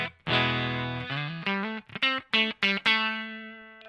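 Electric guitar played clean on the neck pickup, routed through a Synth Mangler fuzz pedal into an amp, with a held chord and then short staccato notes and a final ringing chord, heard alone and close.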